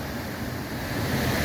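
Rushing water of the Housatonic River swollen with mid-March rain and snow melt, a broad, continuous roar of churning flow mixed with some wind noise, with no voices.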